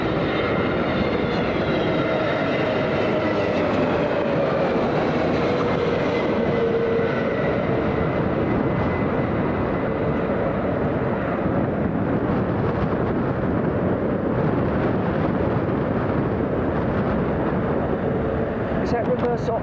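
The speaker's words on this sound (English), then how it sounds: "The big old 777 going out." A Boeing 777 takes off from runway 27L at a windy London Heathrow, a loud sustained jet engine roar lasting throughout with a faint rising whine, while voices talk over it.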